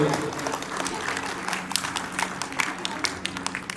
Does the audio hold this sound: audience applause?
yes